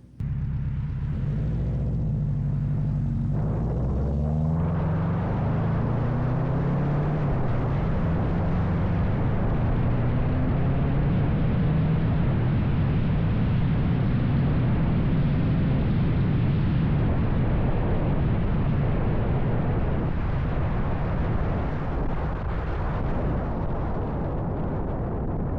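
Heavily worn Subaru WRX on the road, recently tuned to run less rich, with a loud, rough engine and exhaust roar that climbs through rising gear pulls and holds a dense, steady drone close by.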